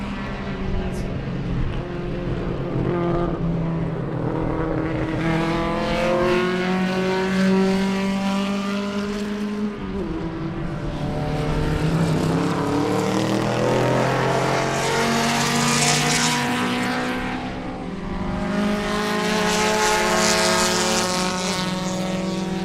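Race cars roar around the Sebring circuit during a Love Bug Dash event, engines rising and falling in pitch as they pass, loud and continuous, with a commentator talking over the engine noise.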